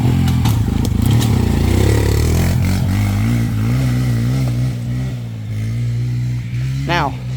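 Yamaha YZ125 two-stroke dirt bike ridden on a muddy woods cross-country track, its engine droning steadily and loud throughout with a sharp rev rising near the end, clattering and scraping over the rough ground.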